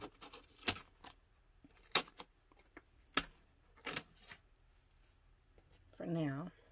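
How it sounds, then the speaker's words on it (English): Sharp, isolated clicks and short scrapes from an X-Acto knife cutting dollhouse wall material, spaced irregularly and fairly close, with a brief voiced sound near the end. "I'm going to take this X-Acto knife and I'm just going to cut it."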